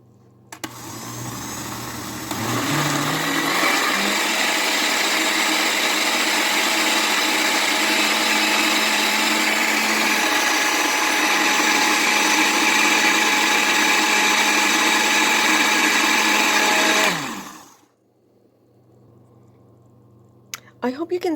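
A blender runs at high speed cooking oats into a smooth base for oat yogurt, whirring loudly and steadily for about fifteen seconds after a short ramp-up, then winding down abruptly to quiet.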